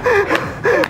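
Two sharp inhaled gasps, one right after the other, taken as part of a clapping-and-breathing relaxation exercise; close, loud and breathy, with no talk.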